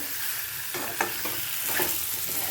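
Paneer sautéing with spices in a hot pan, a steady sizzle with a few sharp stirring scrapes of a spatula, close and without talk.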